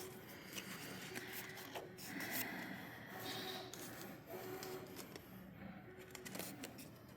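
Paper being folded by hand for a dog-themed paper craft memory keeper, with steady soft rustling and rubbing, a few crisp creases and slides, close and quiet, no talk.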